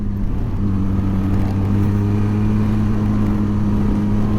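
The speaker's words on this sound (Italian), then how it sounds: "Facciamo sentire un po' il motore adesso." A loud Benelli TRK 502X motorcycle engine hums steadily with a deep, constant drone and no clear revving swells, close by and alone without talk.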